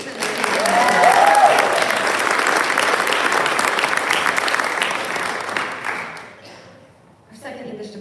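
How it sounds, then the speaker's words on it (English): Audience applause at a high school senior awards night, steady clapping from a full room that swells early, holds for several seconds, then fades out. "a small round of applause for Billy Baker"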